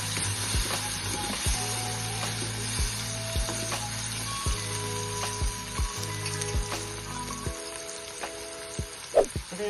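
Garam masala and red chilli powder sautéed in a pan for a carrot and potato dish, soft continuous sizzling with repeated scraping stirs and taps, close by.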